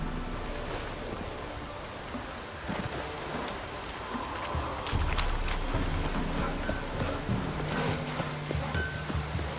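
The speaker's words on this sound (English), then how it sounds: "Looks like rain." Steady rain falls in The Witcher 3 video game, a dense, even hiss of drops on surfaces with a few louder spatters. It continues throughout with no talk.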